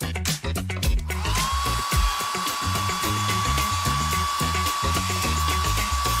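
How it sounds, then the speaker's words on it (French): A hair dryer blows on freshly combed, smoothed hair during a makeup and hairstyling session. It switches on about a second in, then holds a steady whirring whine over rhythmic background music to the end. "Et on sèche au sèche-cheveux."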